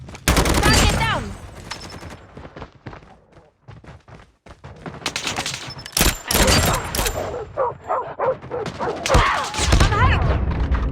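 Pistol gunfire in a video game shootout: sharp single shots and quick bursts crack out in irregular clusters, near and loud, with voices speaking between the volleys.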